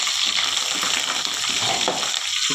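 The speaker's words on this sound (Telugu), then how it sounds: "చూడండి ఆనియన్, పచ్చిమిర్చి, మసాలాలు వేగినాయి" Onion, green chillies and spices fry in a pan with a loud, continuous sizzle that keeps an even level throughout, with faint crackles riding on top and no voices.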